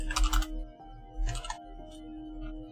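Bursts of quick typing on a worn computer keyboard with broken, sticking keys, two short clusters of clicks separated by pauses, fairly close over a faint background hum.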